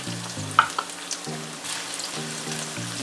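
Chopped pepper for ackee and saltfish hits a hot pan with a bright sizzle and a couple of sharp spits near the start, then a steady frying hiss continues beneath soft background music.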